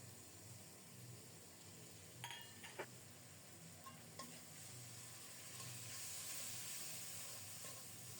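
Ground spice paste, already fried, sizzles faintly in a pan with a soft continuous hiss and a few light clicks of stirring; no one speaks.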